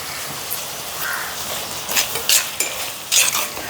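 Shallots sauté in a pan for a liver roast, a steady soft sizzle with a few brighter stirring scrapes and clinks of the spoon toward the end, close and without speech.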